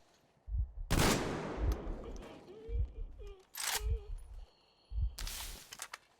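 Suppressed gunfire in the Metro Exodus video game, several muffled shots spread out in separate bursts with clicks between them, fairly close and loud, with no talk over it.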